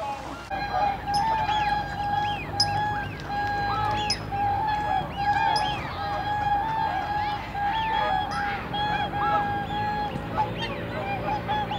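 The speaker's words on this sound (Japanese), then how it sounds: "白鳥も水鳥も見れました。" Swans and other water birds honk and call continuously at close range, a dense overlapping chorus of nasal trumpeting notes with some faint talk underneath.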